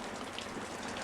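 Rain falls steadily in a brief, even wash of soft hiss with no distinct drops standing out.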